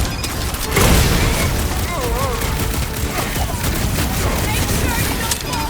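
Gunfire and heavy combat blasts in Marvel's Guardians of the Galaxy video game, a dense, continuous barrage with a loud burst near the start, under shouted character dialogue and game effects.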